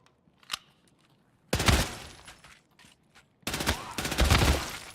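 Two loud bursts of automatic gunfire in Escape from Tarkov (SPT), each lasting about two seconds with a quiet gap between, after a single faint shot near the start; no talk.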